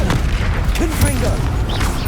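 A Confringo blasting spell explodes in Hogwarts Legacy, a booming burst with crackling pops and magical whooshes, loud and dense over continuous game sound.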